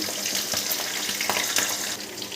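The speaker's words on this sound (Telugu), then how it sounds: "ఇప్పుడు పచ్చిమిరకాయలు వేసుకుందాం" Green chillies dropped into hot tempering oil with chana dal and cumin for coconut rice, making a constant, close hissing sizzle with brief crackling spurts.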